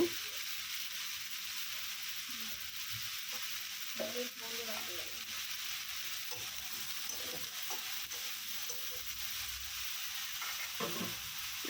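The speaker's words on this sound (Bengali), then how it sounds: "আর এই যে ফুলফুলগুলো দিয়ে ভালো করে ভেজে নেব" Vegetables for Bengali shukto fry in hot oil with cumin and radhuni in a pan, giving a steady, close sizzle. Soft scraping stirs come through now and then, with no talking.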